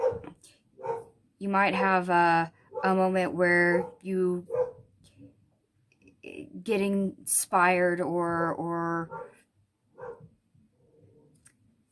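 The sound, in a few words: dog barking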